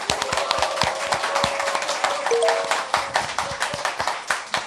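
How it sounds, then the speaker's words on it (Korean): Studio audience clapping opens a Korean current-affairs talk show, a steady patter of many hands with sharp individual claps standing out, fairly close and continuous, with a brief tone sounding midway. "여러분의 힘찬 박수와 함께 시작하겠습니다."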